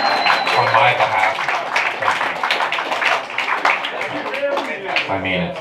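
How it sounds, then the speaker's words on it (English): Audience applause and clapping at a live concert fill the room steadily for several seconds, with voices and cheers mixed in and low musical notes sounding faintly underneath. "Let's give yourselves a round of applause on my behalf."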